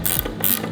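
A ratchet loosens a bolt on a Subaru, making a short burst of close mechanical clicking with no talking.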